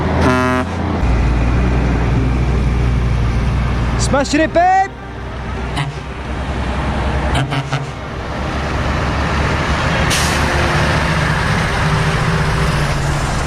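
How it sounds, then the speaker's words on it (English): Trucks rumble past on the Ho Chi Minh Road, a cloudy mountain route near the Laos border, with a burst of horn toots partway through and engine noise swelling and fading. Someone speaks briefly. "The trucks aren't actually as frequent as it looks at the moment."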